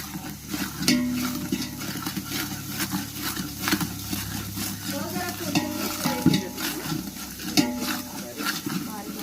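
Onion frying in a pan in a busy dhaba kitchen, steady loud sizzle with stirring and scraping, pots clanking, and voices talking in the background throughout.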